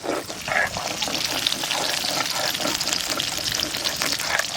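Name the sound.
katla fish slowly frying in oil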